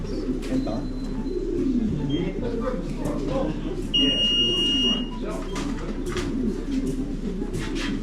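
Racing pigeons in a loft after a race, with soft low cooing running throughout, a brief electronic beep partway through, and people talking nearby.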